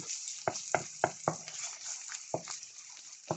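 Crushed peeled ginger frying in a pan for ginisang ampalaya: a soft sizzle broken by a series of sharp spatula taps and scrapes in an uneven rhythm.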